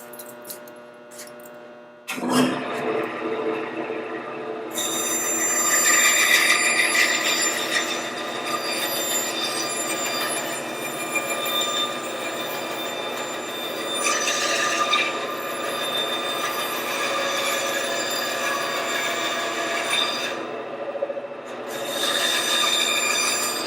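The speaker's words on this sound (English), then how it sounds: "when I get into the saw, I'm just going to follow those lines and allow each one of those to come off" A SWAFL band saw cuts through wood along relief cuts, giving a loud, steady, high-pitched whine rich in ringing overtones. It starts abruptly after about two seconds and runs continuously with slight swells, with no talking.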